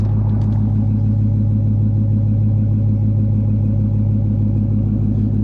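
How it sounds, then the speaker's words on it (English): Exhaust note of a Pontiac Grand Prix GTP idling, a deep, steady rumble with a regular low pulsing that holds evenly for several seconds, close and loud with no talking. "Listen to the exhaust."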